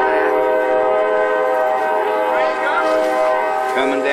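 A train passes close by with a loud, sustained horn blast held throughout, its rumble mixed in and faint voices beneath.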